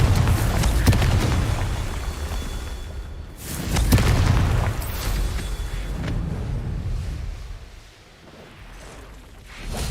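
Confringo fire-blast spell explosions in Hogwarts Legacy, heavy booming blasts with whooshing bursts rolling into a sustained low roar, two main impacts and a fading tail, with no talk over them.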